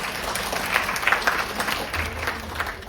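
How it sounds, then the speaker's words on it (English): An audience applauds for the Statesman, a brief patter of many hands clapping at moderate volume, fairly steady across the moment. "So can we have a big applause, please, for the Statesman?"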